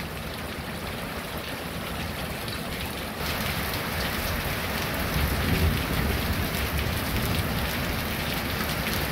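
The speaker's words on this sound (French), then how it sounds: "là ça pleut là" Steady heavy rain pours down during a violent thunderstorm, a dense hiss of drops on surfaces that grows slightly louder midway, with a low rumble beneath.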